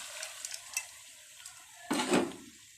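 Spiced vegetables for Bangla vegetable khichuri are stirred in a pot with light scraping taps, then a short loud sizzle bursts as washed rice and lentils go in and fade into quiet frying.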